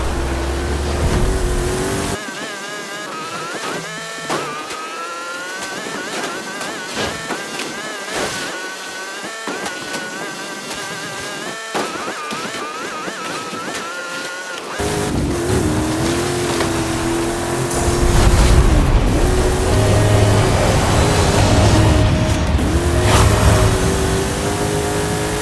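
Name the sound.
Ferrari race car engine in a racing video game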